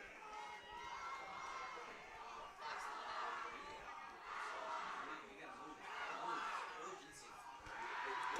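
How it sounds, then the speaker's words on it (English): A home crowd at a Le Roy high school football game against Attica cheers in swelling, rhythmic waves of distant voices, steady throughout with no single voice standing out. "The Leroy faithful getting into it, trying to cheer their team on"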